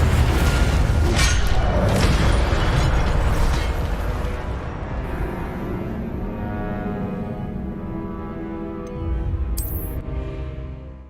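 An Incendio fire spell explodes in Hogwarts Legacy, a loud booming blast that rumbles and slowly fades over several seconds, followed by a lingering tonal hum and a later smaller burst.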